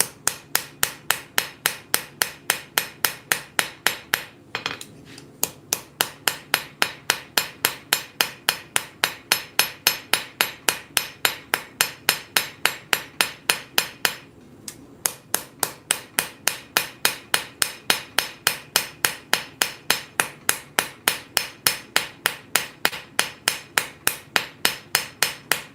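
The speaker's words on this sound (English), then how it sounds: "This is a finer cross peen right here, and I'm just going to do the initial drawing of these bevels with that." Rhythmic cross peen hammer blows drawing bevels on hot metal at a forge, struck steadily and close at roughly three per second, with two brief pauses in the run.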